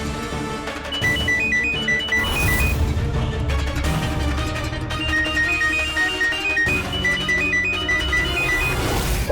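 A repeating electronic ringtone melody of high beeping notes plays over loud, busy background music and crashing effects.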